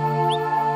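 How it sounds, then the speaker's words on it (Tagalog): A whistling wrinkled frog gives a single quick rising whistle as its advertisement call, short and clear over a steady tonal background hum. "Definitely yung footage ng whistling wrinkled frog, it's a form of advertisement call."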